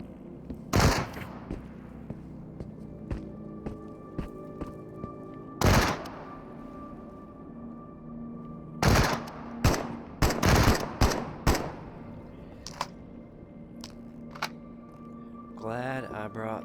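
AK rifle fire in the video game Into the Radius: scattered single shots and short bursts, loud and sharp, spread across the clip with a quiet, humming backdrop between them.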